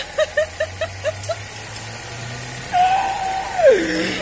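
A human voice imitates a knocking car engine, first with a run of short rhythmic thumps, then a rising and falling revving whine, loud and close.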